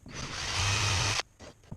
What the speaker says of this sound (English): I drill 4 holes